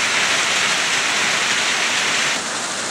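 Steady rain falling outdoors, a dense, even hiss of drops that stays constant and close, with no voices.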